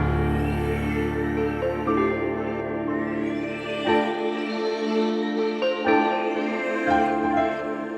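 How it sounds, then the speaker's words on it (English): Octave piano melody re-entering over a layered mix of synths and orchestral instruments in a medieval-style orchestral arrangement, sustained tones with distinct note changes, steady and full throughout. "Then over here, I bring the octave piano back in."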